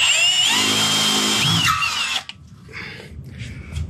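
A power drill with a letter I bit bores a hole, loud and steady for about two seconds with a whining pitch shift, then stops abruptly, leaving quieter handling and shop noise. Work on a 1961 Cadillac Coupe DeVille for a 5/16-24 tapped thread.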